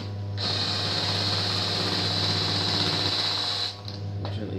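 A screw is driven into wood by a steady, whirring mechanical drive for about three seconds, then stops abruptly, close and moderately loud, with no talking.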